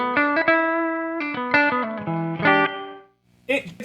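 Guitar played through the hall reverb setting of a Donner Verb pedal: a run of plucked notes and chords with a short, washy tail, followed by a brief pause and one more strummed burst at the end.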